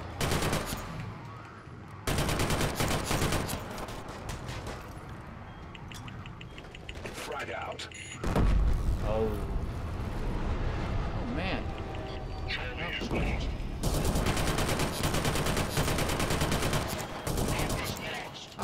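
Gunfire in the online multiplayer shooter Killzone Shadow Fall, dense rapid bursts and machine-gun fire running through most of the stretch under frequent excited talk from players.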